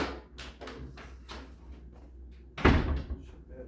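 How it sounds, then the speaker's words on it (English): An interior door in a laundry room under renovation swings shut with a single solid thud after some faint clicks and rustling nearby. "Shut that door."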